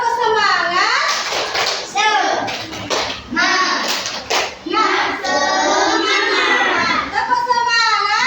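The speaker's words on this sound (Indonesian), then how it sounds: "tepuk semangat" Schoolchildren in a classroom chanting the rhythmic tepuk semangat clapping routine together, loud sing-song group voices punctuated by sharp synchronized hand claps in a steady pattern.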